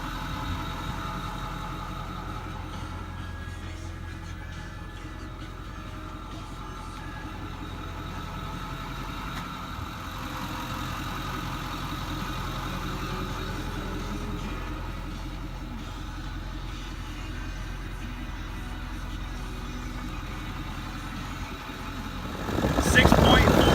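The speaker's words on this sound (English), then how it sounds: "Powerstroke Diesel. It's a V8 twin turbo." 2008 Ford F350 dually 6.4 Powerstroke V8 twin turbo diesel idling with a steady low rumble and faint clatter, someone talking over it, ending in a brief louder burst.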